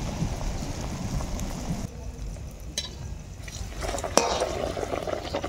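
Malpua batter frying in a small amount of hot oil over a medium flame, a steady close sizzle that dips briefly midway, then swells again with a sharp clink of a pan or utensil.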